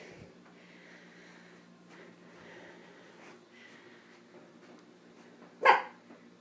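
A single short dog bark rings out near the end, close by, after several seconds of quiet room tone with faint background murmur.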